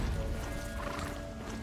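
Horse in the video game Horizon Zero Dawn, a short burst of a neigh over clopping hooves, loud and close, lasting under two seconds.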